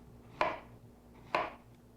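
A kitchen knife cuts summer squash into quarter-inch slices on a cutting board, two distinct chopping knocks about a second apart, close and clear in a quiet kitchen.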